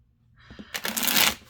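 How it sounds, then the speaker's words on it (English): A deck of Tinker's Damn tarot cards is shuffled up close in one quick riffle, starting with a few light taps and building into a bright, crisp flutter of cards that lasts about a second and then fades. "I like this shuffling sound."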